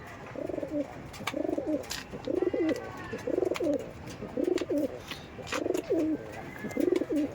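Pigeons in a breeding loft coo in a steady rhythm of about seven evenly spaced throaty calls, close and clear over faint background noise.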